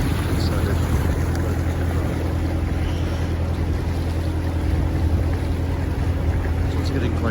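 Boat cruising down the River Weaver valley on a fine day, a steady low engine drone with wind rush and water noise, continuous and close, without talk.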